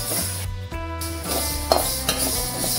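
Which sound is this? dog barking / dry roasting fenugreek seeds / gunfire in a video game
dry roasting fenugreek seeds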